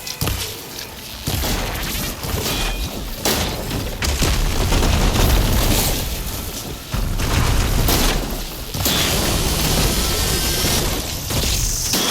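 A machine blows apart during a boss fight in the Horizon Forbidden West video game, with repeated loud, booming blasts and rumbling bursts that come close together, layered over a dense, continuous game soundtrack.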